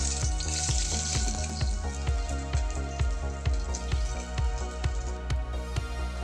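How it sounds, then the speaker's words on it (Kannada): Finely chopped medium-size onion fries in hot oil for a chicken masala fry, giving a steady crackling sizzle with regular sharp ticks and pops throughout. "ಎಣ್ಣೆ ಬಿಸಿ ಆದ ನಂತರ ಇದಕ್ಕೆ ಸಣ್ಣದಾಗಿ ಕಟ್ ಮಾಡಿರೋ ಒಂದು ಮೀಡಿಯಮ್ ಸೈಜ್ ಈರುಳ್ಳಿ ಇದಕ್ಕೆ ಸೇರಿಸ್ಕೊಳ್ಳೋಣ"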